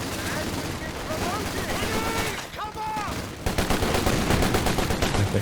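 Land Mattress rocket barrage in the strategy game Company of Heroes 2, a volley of whooshing launches and dense overlapping explosions that swell louder toward the end, with battlefield noise throughout.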